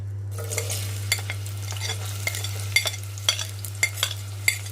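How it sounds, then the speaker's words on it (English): Onion frying in sunflower oil in a pan, a continuous sizzle broken by regular sharp spoon scrapes and taps as it is stirred, with a low steady hum underneath. "I'm just going to allow this to fry for a bit"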